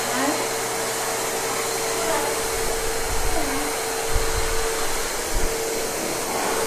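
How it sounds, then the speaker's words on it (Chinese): A pet blow dryer roars steadily and loud while a dog is dried after a bath, a continuous close airy blast with faint thumps and movement underneath. "走走去吹水机那边，妈妈帮你吹干了。"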